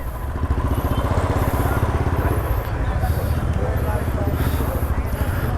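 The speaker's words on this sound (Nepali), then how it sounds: "बुलेट बाइक चाहिँ यहाँ बसेछ" Steady, loud engine rumble from a Bullet motorcycle, continuous for the whole stretch, with people talking over it.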